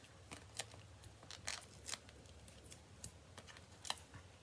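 Ribbon scissors snip through ribbon during paper card-making, giving a series of crisp, close cuts at an uneven pace over a quiet background.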